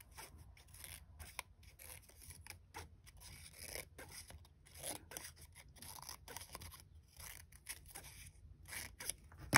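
A retractable craft cutter slices through adhesive bandages in a string of short, close, quiet snipping and scraping cuts, with faint rustling between strokes and no talking.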